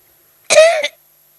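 A single short, rasping cough, loud and close, breaks an otherwise silent moment.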